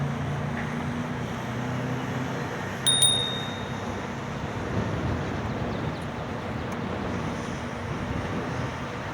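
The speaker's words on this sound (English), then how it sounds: "Yeah, I like this little bell." A small bicycle bell on a Rad Rover eBike rings once, a sharp bright ding that rings on briefly, heard outdoors over steady wind and ambient rumble, with one faint later ting.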